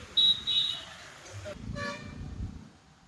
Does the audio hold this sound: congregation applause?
no